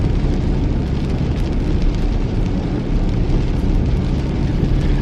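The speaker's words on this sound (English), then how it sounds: "I love the rain like this." Steady, dense rain pours outdoors, a constant close hiss of drops with no break over the whole stretch.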